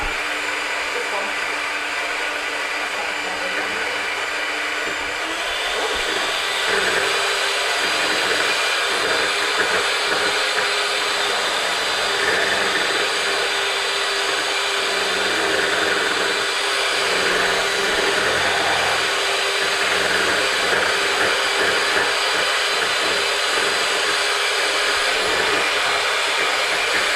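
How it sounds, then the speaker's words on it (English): An electric pan mixer running steadily on its turbo setting while whipping a Valentine's Irish cream and chocolate orange liqueur pudding, a loud continuous motor whine that holds for the whole stretch with a faint voice underneath. "Very valuable piece of kitchen equipment, these pan mixers"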